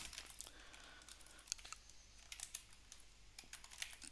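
Python code being typed on a computer keyboard, a steady run of light, quiet key clicks with a few sharper taps, alone at a low level.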